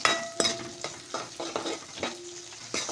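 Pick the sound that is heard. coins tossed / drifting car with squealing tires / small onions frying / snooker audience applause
small onions frying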